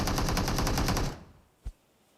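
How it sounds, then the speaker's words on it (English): A rapid, loud burst of automatic gunfire from a video game in an esports tournament qualifier match rattles for about a second, then cuts out, followed by a single dull thud. "All the shots just flying right over M4's head."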